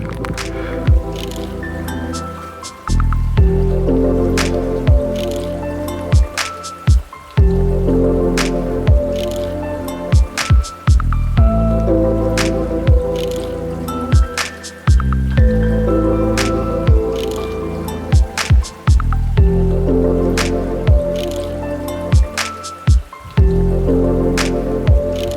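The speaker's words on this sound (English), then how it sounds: "I'm sat behind a rock because it's raining and this is out the rain" Rain on a mountaintop beside a rock, heard as dense pattering and dripping close by, with sharp intermittent drops and cracks striking a nearby surface.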